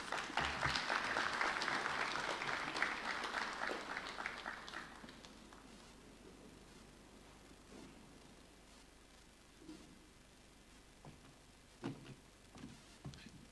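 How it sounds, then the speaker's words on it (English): An audience applauds after a speech at a national competitiveness summit: loud, steady clapping for about five seconds, then quickly dying away to faint rustles and a few stray claps. "A big round of applause for Honorable Clement Chidua."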